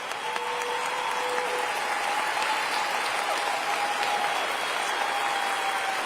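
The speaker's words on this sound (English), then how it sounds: "Let's give them a round of applause." Steady, dense applause from a crowd at a State of the City address fills the whole stretch, with a faint sustained tone running underneath.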